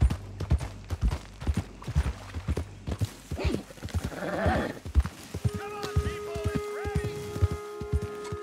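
Rhythmic clip-clop of horse hooves, then a whinnying neigh, in Red Dead Redemption 2 game audio, with a voice talking partly over the sounds and a few electronic tones near the end.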